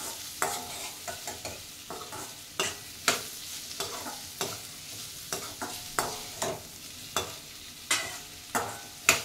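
Papaya pieces sautéing in a pan with crushed garlic and cumin, a low steady sizzle broken by repeated scraping stirs of a spoon at an irregular rhythm, close and fairly loud, with no talking.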